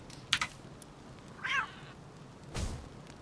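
A cat creature in Palworld gives a single soft meow in a quiet base setting, flanked by faint clicks and a brief rush of noise, all distant and low in level.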